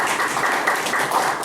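An audience claps briefly at the opening of painter Lee Il-yong's solo art exhibition, a short burst of dense, even applause.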